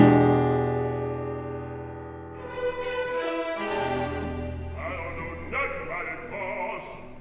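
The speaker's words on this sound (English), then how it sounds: "the orchestra plays his leitmotif, ending on a very bluesy chord" An orchestra plays a sustained, swelling leitmotif from Porgy and Bess that settles and closes on a lingering, richly colored bluesy chord, steady and full throughout.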